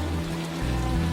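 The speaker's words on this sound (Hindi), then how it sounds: "उस रात फिर तेज बारिश शुरू हुई।" Heavy rain falling at night, a dense and loud hiss of drops that stays continuous through the brief moment.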